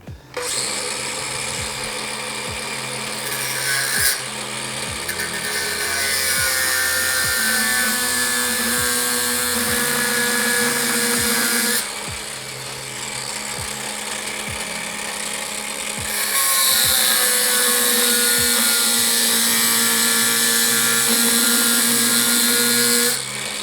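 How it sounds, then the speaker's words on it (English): A loud, steady power tool whines continuously with a high grinding edge, its pitch shifting slightly as it cuts a lower bearing race off a motorcycle triple clamp on a Yamaha V Star, with no voices. "when cutting the lower bearing race off the triple clamp"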